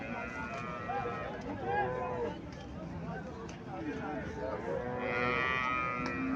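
A dairy cow at a busy cattle market lowing with drawn-out moos, mid-distance, under steady chatter from people nearby.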